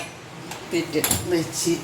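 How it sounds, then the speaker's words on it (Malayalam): A frying pan set down on a gas stove while preparing fish fry, giving a few brief metallic clanks and a light scrape, close and short. "ഇപ്പം ഞാൻ ഗ്യാസ് കത്തിച്ച് ചട്ടി വെച്ചു"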